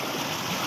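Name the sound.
clear water flowing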